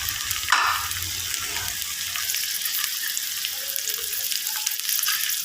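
Sliced onion fries in hot oil in a kadai, giving a steady, close hiss of sizzling with a brief louder burst near the start as the slices hit the oil.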